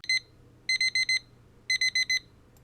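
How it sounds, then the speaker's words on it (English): A kitchen timer alarm goes off during baking, giving a lone short beep followed by two groups of four rapid, bright electronic beeps over quiet room hum, with no voices. "That was our 10-minute timer to get the ladyfinger cakes out of the oven"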